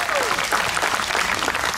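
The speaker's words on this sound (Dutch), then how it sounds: "Groot applaus voor Hexy-Pexy!" Audience applause at a children's fairy-tale stage show, steady dense clapping from a crowd filling the whole moment, with some voices mixed in.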